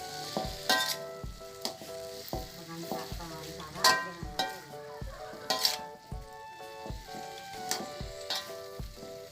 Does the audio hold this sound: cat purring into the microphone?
no